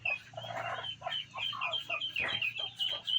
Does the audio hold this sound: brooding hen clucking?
yes